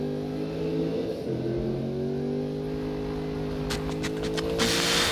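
A Ford Mustang fitted with an RTR wide body kit revs in the Need For Speed racing game, a sustained engine drone with pitch sweeps and a rising whine, ending in a louder burst.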